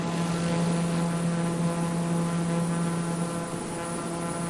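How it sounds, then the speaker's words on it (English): A small single-engine airplane drones steadily from inside the cockpit in flight, a loud constant engine hum and propeller buzz with no speech over it. "I guess I'm getting used to the sound of this plane."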